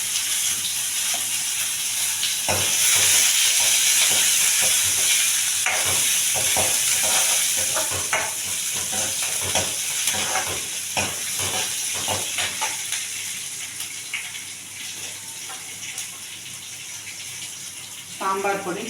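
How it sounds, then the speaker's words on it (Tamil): Mustard seeds and urad dal fry in hot oil in a pan, giving a loud steady sizzle and hiss with scattered crackles and pops, then a spoon scraping near the end; someone talks under the frying. "நல்லா கடுகு பொடி வச்சு உளுந்து நல்லா கோல்டன் கலரில் வந்துச்சு."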